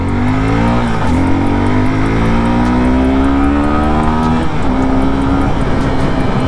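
A 2021 Suzuki Gixxer SF 250 BS6 motorcycle, a 250cc sports tourer, revs hard and close, its engine note climbing steadily, dipping once, then rising again toward a high redline, loud and continuous with no talking.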